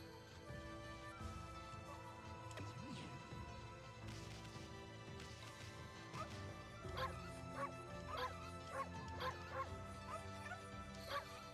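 Dogs in the video game Okami yip, bark and whimper in a string of short, fairly close cries over layered game music and effects, with a quick rhythmic run of yips near the end.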